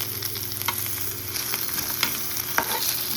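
Pieces of fish fry in hot oil, a dense close sizzle with a low hum underneath and a few sharp stirring knocks.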